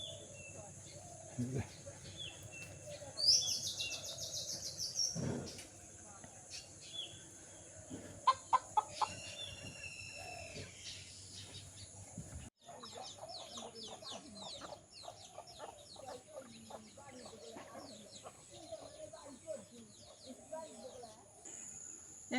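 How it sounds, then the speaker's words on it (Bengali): A rooster crows in the morning in a rural setting, with several clucks and calls rising over quiet background noise, while a person talks intermittently nearby. "মোরক মামা ঘুম থেকে উঠে গেল ডাকাডাকি শুরু করছে সকালবেলায়"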